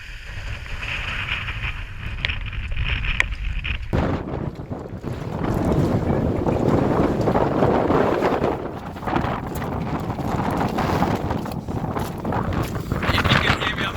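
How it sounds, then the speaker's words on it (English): Strong wind buffets the microphone high on Scafell Pike during a yellow wind warning, a loud continuous roaring rumble that surges and gusts throughout, with no one speaking. "it's extremely windy"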